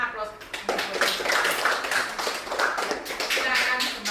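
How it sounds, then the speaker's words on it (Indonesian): A physics class applauds, a short burst of clapping from many hands that swells and fades over a few seconds, with some speech mixed in. "Kita berikan aplaus."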